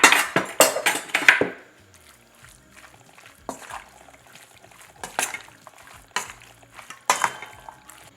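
Spoon stirring curry powder into chicken stew in a pot, a few sharp clanks at first followed by softer scraping strokes and intermittent knocks against the pot, with no speech over it.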